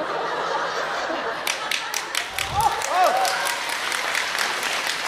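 Clapping from a crosstalk comedy audience at a Deyunshe theater show in Tianjin, scattered and fairly quiet, mixed with a few chuckles and voices.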